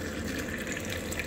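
Hot water is poured while making a drink, a faint, steady splashing and trickling that carries on evenly with no talk.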